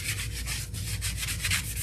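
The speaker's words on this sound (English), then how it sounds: "So I'm just going to take a little sanding block," A small sanding block rubbed briskly back and forth over the edges of a scrap 4x4 wood block, making a close, rhythmic scratchy rasp in quick repeated strokes.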